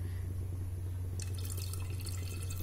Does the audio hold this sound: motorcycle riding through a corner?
no